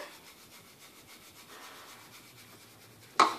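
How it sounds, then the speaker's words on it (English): A pepper grinder cranks out black pepper over pork for a crockpot pulled pork, a soft gritty rasp pulsing steadily and close, ending in a brief louder clack. "I've just got the grinder, so I'm just going to do to taste."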